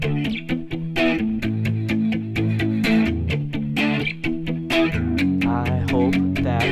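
An electric guitar plays the riff from The Police's "Message in a Bottle": a steady, busy run of plucked arpeggiated notes with slight grit and chorus-like shimmer. Loud and continuous, without talking.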